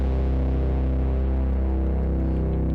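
A heavily distorted, dense low-end percussive synth sound from the Reason DAW drones on steadily and loudly, thick and buzzing with no talk over it.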